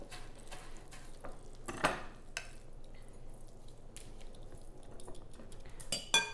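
Feta cheese is spooned over a corn dip, giving soft, quiet scrapes and squishes with a few light clinks of a spoon against the dish, close by and without talk.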